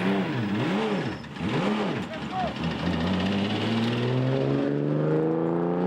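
Racing engines roar and whine past at high revs during the Carrera Panamericana 2013 road race, pitch rising and falling as cars speed by, loud and continuous with a steady rising drone after.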